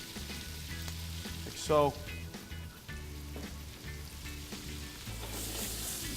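Tomato sauce sizzles and fries steadily in a hot pan for seafood pasta, a close continuous crackle with a brief louder burst as the sauce goes in, over a low background hum.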